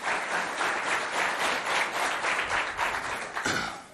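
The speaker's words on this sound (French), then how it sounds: "Applaudissez bien fort pour vous." A crowd of spectators at a school performance event claps loudly and steadily for a few seconds, a dense wash of applause that fades out at the end.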